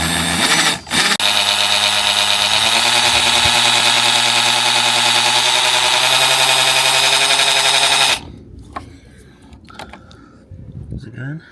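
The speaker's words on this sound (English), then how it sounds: "So we are forced to drill this out, easy out it, and then go from there" Power drill boring out a seized bolt on a VW engine during a cambelt replacement, running loud and steady for about eight seconds with a brief pause near the start, then stopping into quieter workshop handling noises.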